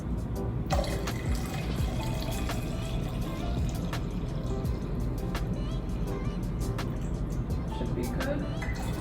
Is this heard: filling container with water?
yes